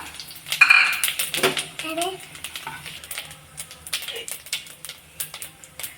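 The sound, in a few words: fennel, cinnamon, cloves, cardamom added to hot oil in pan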